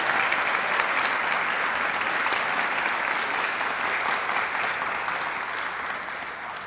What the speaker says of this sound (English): Parents, please give a round of applause to your teenagers who are excellent, excellent kids.